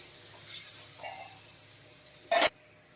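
Paneer masala is stirred in a pan over a soft, steady sizzle, with a couple of faint scrapes and then one short, louder scrape of the spoon near the end.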